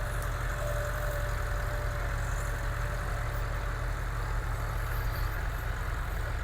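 A tractor engine runs steadily nearby while preparing a field for potato planting, a constant low rumbling drone with no breaks.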